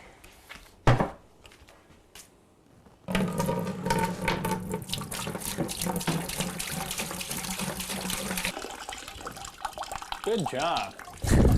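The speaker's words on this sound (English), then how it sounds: "Go ahead and take that and pour that into this bucket here." Liquid for home beer brewing pours steadily into a bucket during a craft session, a continuous splashing rush lasting several seconds, with people talking briefly around it.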